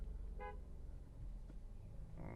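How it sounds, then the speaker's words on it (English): A car horn gives one short toot from inside a car on the road, standing out briefly over a steady low rumble of engine and traffic. "I hate honking at people"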